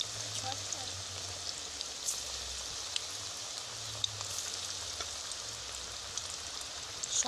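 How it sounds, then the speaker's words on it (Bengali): Jackfruit pakoras deep-fry in a wok of hot oil, cooked like onion fritters, giving a steady, dense crackling hiss much like rain that runs the whole time with only a faint low rumble beneath. "আমি কিন্তু পেঁয়াজির মতন করে এটা ভাজছি, যেভাবে পেঁয়াজি ভাজা হয় আমি কিন্তু সেরকম ভাজছি।"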